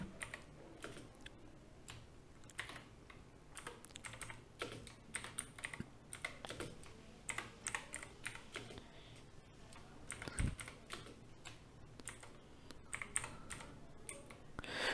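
Steady typing on a computer keyboard, a dense run of quick, light key clicks with uneven rhythm and occasional heavier strokes, close and moderately quiet, with no talking.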